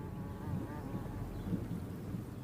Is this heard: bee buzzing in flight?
yes